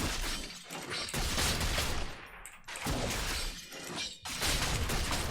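Caitlyn's headshot auto-attacks in League of Legends play as loud, crashing, shattering gunshot effects in several dense bursts, separated by brief gaps.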